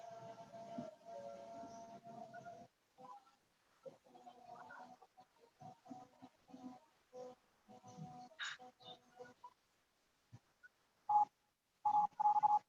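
A phone call is placed during an online meeting: a sequence of short dialing and ringing tones, some fragmented and faint, then a few clear, evenly spaced beeps near the end.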